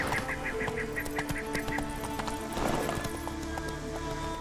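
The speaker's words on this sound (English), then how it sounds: "Good horse." Horse hooves clip-clopping on a path in The Witcher 3: Wild Hunt, a steady trotting rhythm at moderate level with ambient game sounds, faint honks and a brief neigh-like swell.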